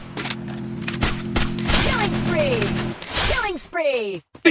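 Bursts of automatic gunfire and single shots ring out in a Free Fire battle-royale match, loud and rapid, mixed with sweeping game effects and a voice talking over the action.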